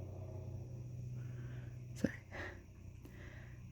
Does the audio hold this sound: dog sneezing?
yes